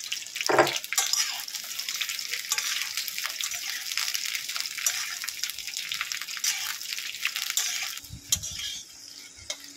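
Okra dropped into hot oil in a kadai, with yogurt and spices already cooked, gives a steady broadband sizzle and crackle that runs on throughout at moderate level, with a few sharper pops near the end.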